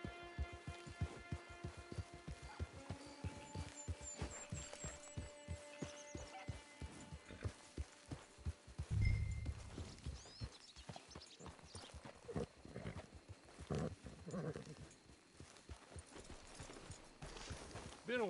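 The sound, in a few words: horse hooves clip-clopping in a PS4 video game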